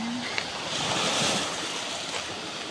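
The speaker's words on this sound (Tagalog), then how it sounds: "Napakalakas ng agos guys, ng alon pala." Strong surf rolls onto a white-sand beach at Pasacao, a broad, roaring wash of waves close by with gusty wind buffeting the microphone and no voices.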